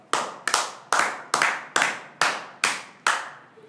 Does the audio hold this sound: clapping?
yes